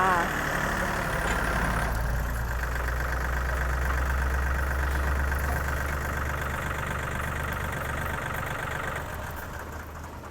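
A Yanmar 39 hp three-cylinder tractor engine runs steadily at idle, a loud, continuous low rumble with a faint knocking beat that stays constant for the whole stretch.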